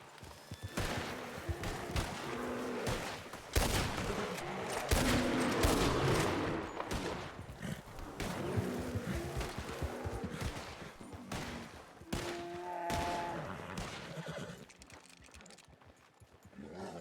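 Gunfire in a Red Dead roleplay game, with repeated sharp shots and bursts scattered across the stretch amid background game noise.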